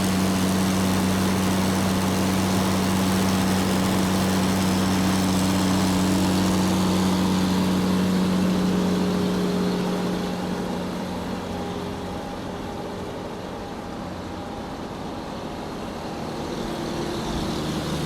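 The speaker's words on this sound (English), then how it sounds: "Fire truck." A fire truck engine runs with a loud, steady low drone that eases down partway through and then settles into a quieter rumble, with no talking.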